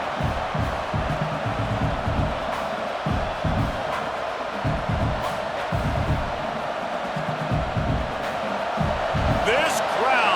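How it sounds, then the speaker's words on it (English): A stadium crowd in the video game College Football 26 roars steadily and loudly throughout, with rhythmic thumping beneath it and a commentator talking over the noise. "This crowd, full throat, splitting the eardrums and letting them know it's going to be a long day."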